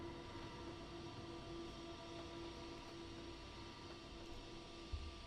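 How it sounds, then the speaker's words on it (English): A train hauling Nescafe cars rolling past in Trainz Simulator 3, a faint steady rumbling hum with a sustained tonal whine, with a single soft knock near the end. "there's a train with the Nescafe cars"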